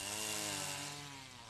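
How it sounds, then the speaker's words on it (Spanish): A chainsaw cutting through a tree trunk for violin-making tonewood, a steady loud buzzing whine held throughout and easing slightly toward the end, with no voices. "De la otra mitad se encarga Karl Irniger con su motosierra."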